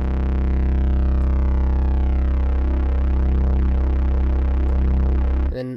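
A synth bass from the Bass Master VST plugin with its stereo chorus set to widen holds one deep, steady note that swirls gently for several seconds, then cuts off abruptly.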